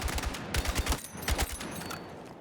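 A full-auto weapon sprays in quick repeated shots in the video game Battlefield 6, two short rapid bursts, close and punchy.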